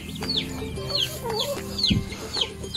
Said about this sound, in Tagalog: mayroon man itong mga manok ngayon, andyan sila